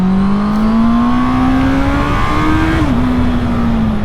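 Honda CB650R four-cylinder motorcycle engine singing under steady acceleration on the road, a loud continuous rising whine with a brief dip at a gear change, wind rush beneath, close and alone.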